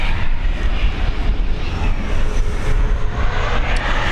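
An airliner on approach to Dublin Airport's runway 28L in the evening gives a steady, broad engine rumble that holds fairly level throughout, distant but continuous with no talking.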